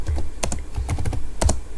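Keystrokes on a computer keyboard as an IP address is entered for a VLAN switch configuration, a close, crisp run of clustered taps with short pauses between bursts.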